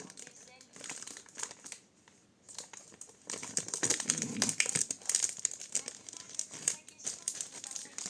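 Paper is handled and crinkled at a crafting table, with irregular rustling and crackling bursts close up, stronger in the second half. A person talks quietly now and then.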